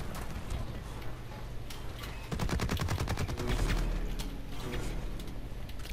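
Rapid gunfire bursts crackle in the shooter game Blacklight Retribution, a quick string of evenly spaced shots at moderate distance that starts midway and fades into background game noise.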